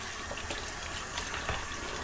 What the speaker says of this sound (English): We're going to go ahead and put a little bit of water on it